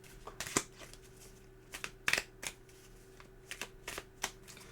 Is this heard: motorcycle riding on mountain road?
no